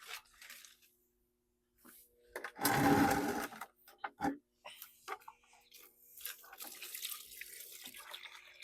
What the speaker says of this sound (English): I should add more water.